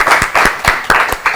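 A studio audience at a children's quiz competition claps in about six loud, close, evenly spaced bursts with brief gaps between them.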